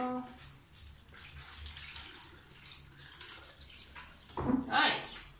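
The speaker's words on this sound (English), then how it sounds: "I can make sure to also rinse the cap out properly." Water runs and splashes as a wig cap is rinsed under a tap, a soft steady flow with a louder splashing burst near the end, quiet and close, with talking over it.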